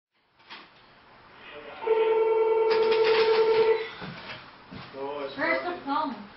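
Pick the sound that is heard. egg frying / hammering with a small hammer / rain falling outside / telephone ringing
telephone ringing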